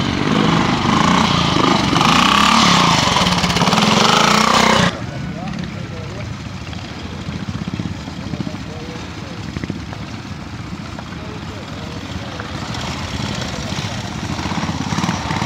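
A Velocette motorcycle on a rocky trials section at Crag Vale, its single-cylinder engine revving loudly at first and then dropping to a steady lower throb as it picks its way along, outdoors and moderately close.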